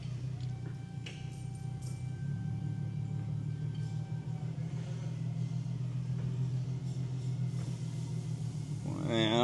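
Tuned Nissan 370Z with a burble exhaust setting, its engine holding a steady low rumble with light revving throughout, close by, and a brief voice near the end.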